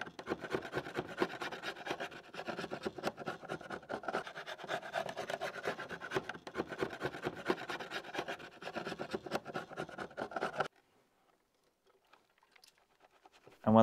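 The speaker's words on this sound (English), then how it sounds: "with a flathead screwdriver and just scraping it off as much as possible so you can reach" A flathead screwdriver scrapes old sealant off a Volvo V70 or XC70 headlight (2008–2016), a close, busy rasping and scratching of rapid strokes for about ten seconds before stopping abruptly into near silence.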